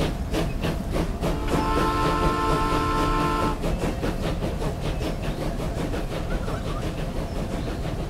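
A train departs in the Transport Fever railway game: steady rail rumble and hissing steam, with a sustained whistle-like tone partway through, then rhythmic clatter carrying on, loud and continuous, with no talking.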